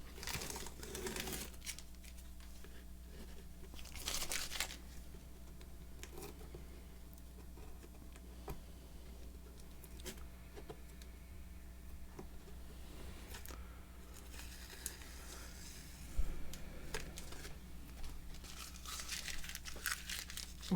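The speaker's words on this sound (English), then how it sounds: "And then we can peel off the tape." Masking tape is peeled slowly off a watercolor painting of boats on paper, giving faint, intermittent tearing and crinkling bursts spread across a long quiet stretch.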